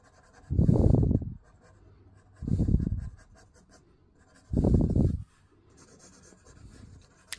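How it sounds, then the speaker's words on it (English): A pencil scratches across paper in three close, distinct bursts of rough strokes with quiet pauses between them, sketching a face and heard alone. "before I draw a mask or anything, I have to draw the face"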